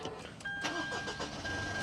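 A Mitsubishi Montero Sport Black Series 4WD cranks and fires up, a short starter whir blending into a settling engine idle, heard close from inside the cabin with a faint electronic beep tone.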